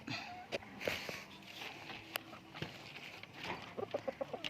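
A rooster clucks in soft, scattered bursts nearby, with light rustling and shuffling around it and a quick run of clucks near the end.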